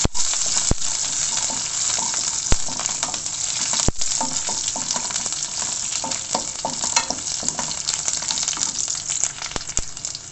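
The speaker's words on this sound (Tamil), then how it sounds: "ஒரு 10-12 பல் பூண்டு போட்டு நல்லா வதக்கிக்கோங்க." Ten to twelve garlic cloves sauté in a pan of hot oil for a spicy kara kuzhambu, giving a steady close sizzle with a few sharp clicks and scrapes from stirring; no one speaks.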